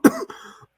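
A voice imitates a short, harsh coughing fit: one loud, sharp burst followed by a rougher, fading rasp, all in under a second.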